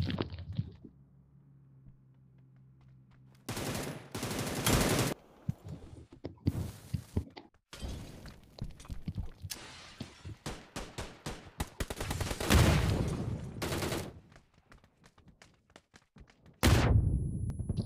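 Bursts of gunfire from the mobile battle royale game PUBG New State, loud repeated shots and automatic volleys in irregular clusters with short quiet gaps, plus light footstep-like thuds between them.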